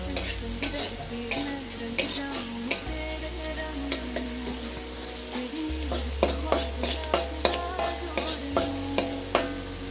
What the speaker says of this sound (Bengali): পেঁয়াজটা লবণ দিয়ে একটু ভেজে নেবে